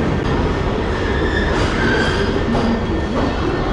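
An air-conditioned carriage on an Indian Railways passenger train rolls along with a loud, steady rumble of wheels on track, thin metallic squeals rising at moments over the continuous drone.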